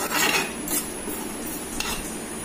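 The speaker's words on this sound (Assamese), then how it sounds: "এতিয়া কেৰাহী এখন গৰম, পেন এখন গৰম কৰিবলৈ দিছোঁ আৰু ইয়াত মছলাখিনি অলপ ভাজি লম" Spices dry-roasting in a hot kadai for mango pickle, with steady scraping and stirring of a metal utensil against the pan and a few brighter clinks, no voices.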